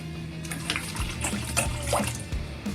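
Pomegranate juice from a 48-ounce bottle is poured into a pot, making a close, steady liquid pouring and splashing sound with small gurgles and no talking.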